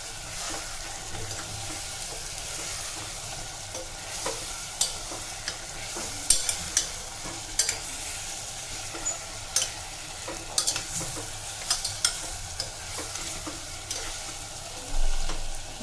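Garlic brinjal curry stirred slowly in a pan, a steady close sizzle of frying with soft repeated scrapes and taps of the spoon throughout, alone without talk.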